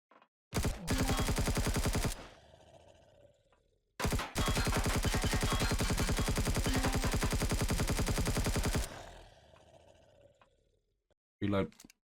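Gunfire in the video game Empyrion Galactic Survival: two long, loud bursts of rapid automatic fire, each followed by a decaying echo, with a brief final shot at the end.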